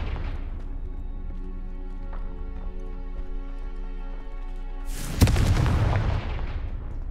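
A Confringo fire-blast spell in the video game Hogwarts Legacy, a sudden loud explosive burst after a stretch of tonal game ambience, ringing out and decaying over the last two seconds.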